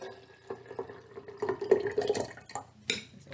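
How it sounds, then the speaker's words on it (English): Watery white paint is poured into a jar, giving a brief run of soft splashing and dribbling pours with a few small drips, close and fairly quiet. "Now we're going to pour that white water into the jar."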